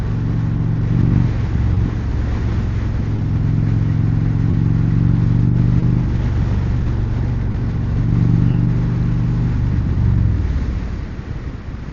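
An Indian Springfield Darkhorse motorcycle engine drones steadily while riding, a deep, loud, close rumble with slight rises and falls in pitch, easing off near the end; no talk.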